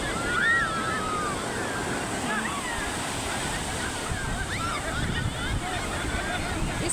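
Surf and breaking waves wash steadily at a beach in Odisha, a broad continuous roar with wind noise buffeting the microphone throughout.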